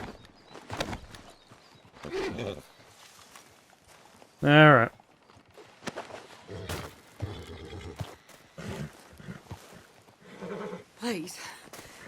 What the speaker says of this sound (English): Nope, come back, horse.